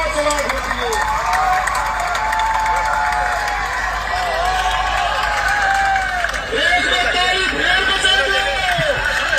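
A large crowd at a public gathering claps and cheers together, making a dense, steady roar of applause that continues for the whole stretch with only a brief dip near the end.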